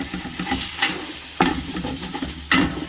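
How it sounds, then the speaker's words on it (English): Wooden spoon scraping thick meat sauce off the bottom of a hot pot, with sharp scrapes about once a second over a steady low sizzle and stirring, close and moderately loud. "Now it's starting to stick in here. Now I got to scrape it up a little."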